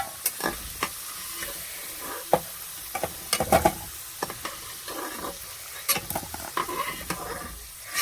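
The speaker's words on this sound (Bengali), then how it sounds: "লাল লাল করে আলুটা ভাজা হয়ে গেছে," Potatoes fry in hot oil in a home kitchen as a spatula stirs and lifts them out, steady sizzling broken by repeated sharp scraping clinks of metal against the pan, close by and without talk.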